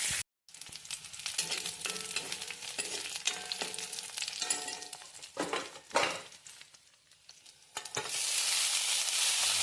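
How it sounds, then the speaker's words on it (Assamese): Onion and green chili frying in oil with spices for a dish of greens, a continuous bright sizzle with scraping stirs, swelling to a loud hiss near the end. "সেইখিনি মছলাটো ভাজি ল'ম"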